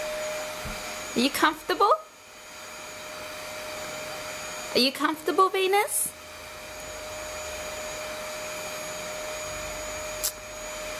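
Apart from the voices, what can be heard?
vacuum cleaner running in the background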